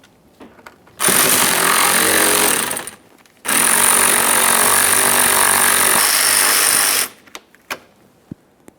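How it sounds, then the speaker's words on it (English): A power tool whirs loudly while a 10mm mounting bolt is removed from a fog lamp assembly on a 2011-2021 Jeep Grand Cherokee, two steady sustained bursts of roughly two and three-and-a-half seconds separated by a brief pause, followed by faint clicks. "There's a 10mm headed mounting bolt."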